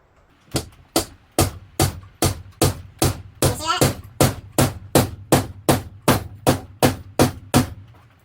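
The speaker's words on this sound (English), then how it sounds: "And then take your rubber top hammer." A rubber mallet strikes repeatedly in a steady rhythm, tapping a bike handlebar grip onto an aluminum cane, about twenty evenly spaced dull knocks, close and fairly loud.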